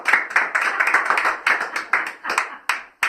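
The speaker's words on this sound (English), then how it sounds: "give me a hand then" Live show audience clapping hands in steady applause, a dense run of close, sharp claps with a few louder accents, continuing for a few seconds with no speech over it.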